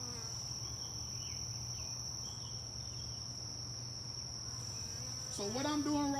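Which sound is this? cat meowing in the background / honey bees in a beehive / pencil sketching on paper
honey bees in a beehive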